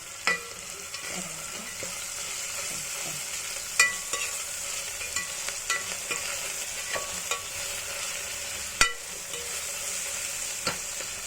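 Carrots, beans and potato pieces frying in a pan, stirred with a steady sizzle and scattered sharp scrapes and clinks of the spoon against the pan; no talking.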